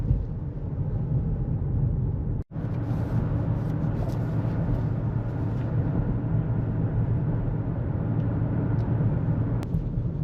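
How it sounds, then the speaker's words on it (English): A 2024 Mazda CX-5 with about 18,000 miles drives over a bumpy old road, giving a steady low cabin rumble and road noise with one brief dropout partway through, and no talking. "Now if you can tell, I'm going on a pretty bumpy old road."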